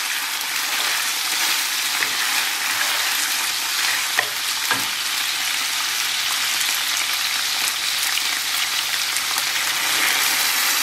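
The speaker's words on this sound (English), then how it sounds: "so I'm going to add the tripe now. We'll stir this in for a bit." Tripe for a Norman tripe à la mode de Caen fries over a gas stove in a loud, even, rain-like sizzle, with occasional soft knocks as it is stirred through the pan.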